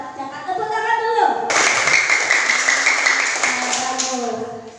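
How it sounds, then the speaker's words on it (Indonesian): Children in an Indonesian primary-school classroom break into a burst of hand clapping that starts sharply after a moment of talk and carries on for a few seconds, close and fairly loud. "Tepuk tangan dulu"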